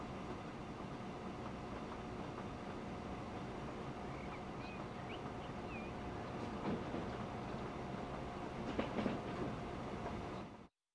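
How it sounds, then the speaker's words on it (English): A train departs in the Transport Fever 2 video game, a steady rolling rumble with faint rail clatter and a couple of brief squeals, sounding alone without talk until it cuts off. "See that train come out."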